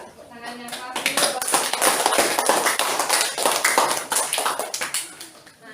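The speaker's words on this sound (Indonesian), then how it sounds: "tepuk tangannya keras dulu" A classroom of children claps loudly and quickly in a dense burst lasting several seconds, then the clapping trails off as a voice starts to speak.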